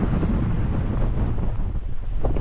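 Cold wind blows across a wild campsite in the Lake District, with a Hilleberg Soulo tent in the open. It is a loud, steady, roaring gust that buffets the microphone throughout, with no one speaking.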